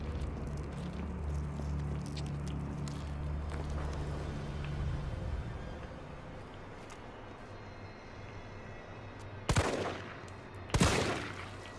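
Two sharp gunshot bursts ring out near the end, close and loud, following a stretch of low rumbling game ambience in Resident Evil 3 Remake.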